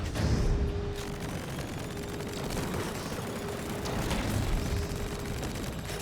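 Dense, continuous gunfire and explosive rumble during a mechanical boss fight in the video game Split Fiction, a steady barrage of shots at fairly even loudness throughout.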